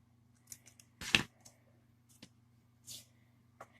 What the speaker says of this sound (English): I'm going to cut my working yarn